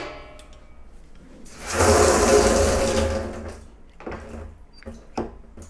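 Water gushes into a tank being filled for bee sugar syrup: a loud rushing surge swells, holds for about two seconds, then fades, followed by a few sharp knocks and clunks nearby.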